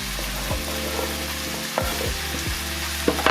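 Chopped onions, butternut squash and potatoes sizzle in a pan while a utensil stirs them, with steady frying crackle and a few scraping clanks of the spoon against the pan.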